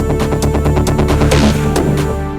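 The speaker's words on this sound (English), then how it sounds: "Watch the distortion on track 2." A Novation Circuit groovebox plays a beat with a pulsing rhythmic pattern of tonal hits and sharp percussive clicks, its texture growing denser and more distorted toward the end.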